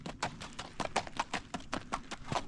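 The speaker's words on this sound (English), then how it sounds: "So this is just a flat foot walk." Fox trotter horse walking at a flat foot walk, hooves striking ground in a steady, even clip-clop rhythm of about a dozen distinct, close, moderately loud footfalls.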